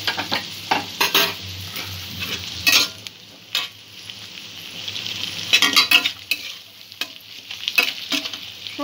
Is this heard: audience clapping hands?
no